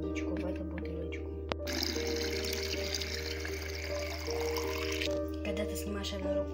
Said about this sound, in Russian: Сейчас я буду наливать водичку в эту бутылочку.